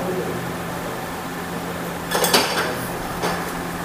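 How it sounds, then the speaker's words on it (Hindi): Rocker arms being pulled from a Passion Pro BS6 110 motorcycle engine give a short cluster of bright metallic clinks and rattles, then a single lighter clink, over a quiet steady workshop hum. "अब हम इसके रॉकरों को निकालते हैं"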